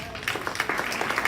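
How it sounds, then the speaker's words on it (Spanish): Short burst of clapping from a church congregation during a sermon, fairly dense and steady, with some voices mixed in underneath. "Denle un aplauso a Él"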